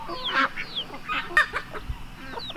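Domestic ducks on a homestead quacking and honking close by, several short calls overlapping in a quick, busy burst.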